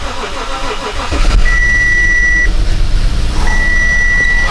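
An Audi A8 D3 engine cranks and catches, settling into a steady idle close by while a warning chime beeps twice inside the car.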